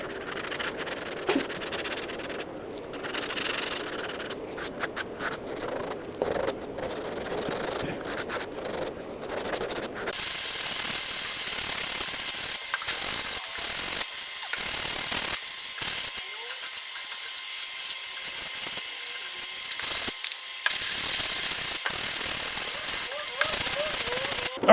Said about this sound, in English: Now we'll block over this filler with 80. And then we'll quickly go to 180, sand the rest of this.